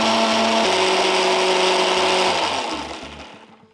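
Electric mixer grinder whirring loudly as it grinds onion, coconut and sesame paste with tomato, a steady high motor whine that winds down over the last second.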